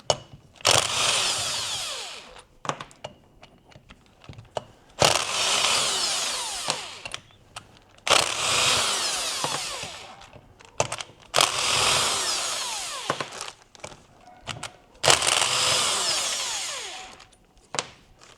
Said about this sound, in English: I've got to go up and get the rattle gun from there.